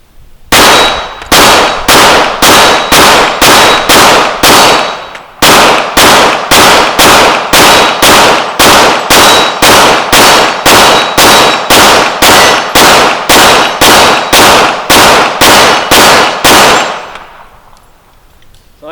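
A pistol fires .40 caliber rounds fed from an extended 45 magazine, loud evenly spaced shots in two long strings with a brief break between them, then the echo fades away.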